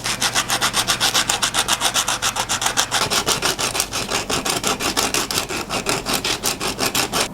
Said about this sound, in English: I'm going to start off with this low grit sandpaper and just work my way up